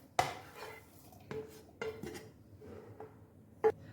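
A potato mixture with fresh coriander scraped and moved into another pan, several scattered metal spoon knocks and clinks against cookware over a quiet background, spaced irregularly.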